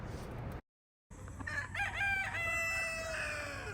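Chickens cluck and a rooster crows nearby after a brief silence, with several overlapping bird calls over a steady farmyard hum.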